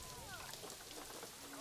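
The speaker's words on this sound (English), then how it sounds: "while we wait for the rain to dissipate" Steady rain falls in the zoo management game Planet Zoo, a soft, continuous hiss with no breaks, faint and even throughout, with a few thin whistling tones drifting over it.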